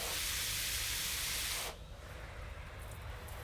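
A loud, steady hiss of water sprayed onto the walls of a bird mew runs for about two seconds, then cuts off to a quiet room.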